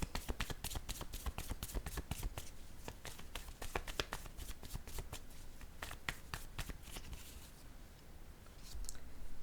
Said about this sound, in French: Je vais déposer une carte ici sur danger.